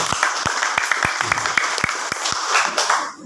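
A church congregation applauds during a Saturday service, steady dense clapping from a crowd with a few sharp louder claps standing out, continuing throughout before fading at the end.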